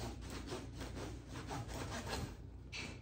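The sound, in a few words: knife slicing crusty sourdough bread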